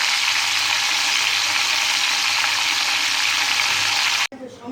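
A fish head fries in a pan with a loud, dense, continuous sizzle that cuts off abruptly near the end.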